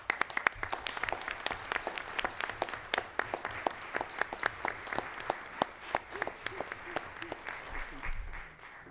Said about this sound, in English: will all family members, administrators, and support and the community please stand and applaud these champions?